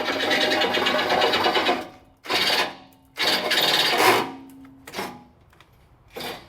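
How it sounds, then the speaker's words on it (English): A power drill works on the rear bumper of a 2010 Lexus LX in a shop, whining in several loud bursts of one to two seconds separated by short pauses, the last bursts brief. "Ricky's drilling back here."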